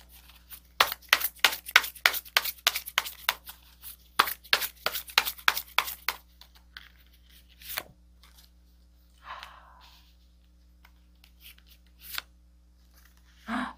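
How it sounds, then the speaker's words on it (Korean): Tarot cards drawn and shuffled from a deck: a quick run of crisp, close card slaps and flicks, then a few scattered softer snaps and rustles with quiet gaps between. "카드를 좀 뽑아보도록 할게요."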